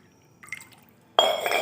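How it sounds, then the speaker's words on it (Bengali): A bowl of water poured into rice in a cooking pot for basanti polao: a faint clink, then a sudden close splashing pour that keeps going to the end. "এখানে আমি আরও 1 বাটি জল দেব।"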